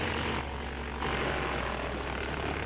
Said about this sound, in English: Now a C-47 taxis into a towing position to receive the other end of the rope.